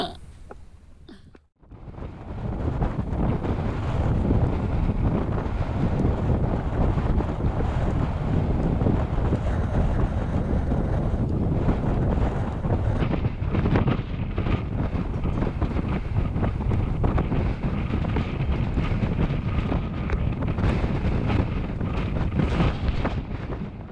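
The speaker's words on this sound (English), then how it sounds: "it's a bit windy up here" Strong wind roars across the microphone at the top of the Col de Larrau mountain pass in the Pyrenees, a loud, continuous buffeting rush that starts after a brief quieter moment and never lets up.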